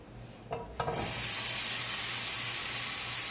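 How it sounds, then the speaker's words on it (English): Bacon dropped into a dry frying pan with no oil, two soft clatters as the strips land, then a loud steady sizzle that hisses on without a break. "I'm gonna go ahead and put my bacon in my frying pan."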